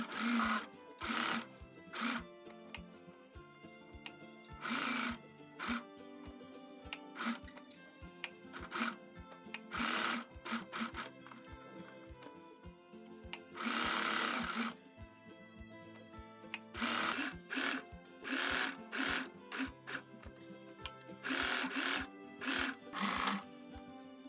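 A sewing machine stitches fabric for a clover-shaped decorative pillow in repeated loud bursts of rapid whirring, separated by short quiet pauses as the fabric is turned and repositioned.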